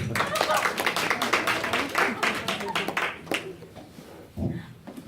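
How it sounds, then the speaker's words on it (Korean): Audience clapping at a business presentation, a burst of many hands that thins out and fades after about three seconds, with a voice briefly audible near the end. "박수 한번 주세요"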